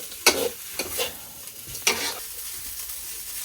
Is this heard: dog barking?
no